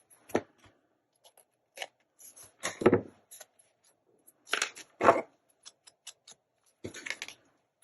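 Scissors trimming a paper tag in a craft session, a few close, crisp snips and paper crackles spaced irregularly with quiet pauses between cuts.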